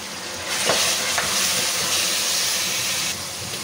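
Garlic-ginger paste sizzles steadily in a hot pan, a close, constant frying hiss with a couple of brief stirring scrapes.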